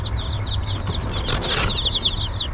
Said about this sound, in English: So there's our chicks.